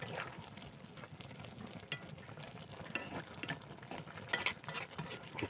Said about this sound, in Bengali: একটু নাড়া দিয়ে হালকা নাড়াচাড়া দিয়ে